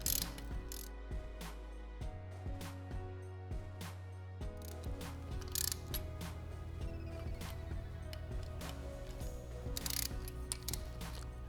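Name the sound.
tool tightening engine case saver screws on BMW S1000RR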